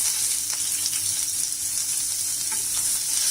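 Chopped onion frying in hot oil with asafoetida for green gram dal gives a steady, dense hiss and sizzle throughout, close and even, with no one talking.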